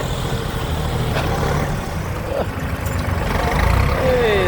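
An old Massey Ferguson 4707 three-cylinder tractor engine runs steadily up close, a low continuous rumble that holds through the whole stretch with no pauses.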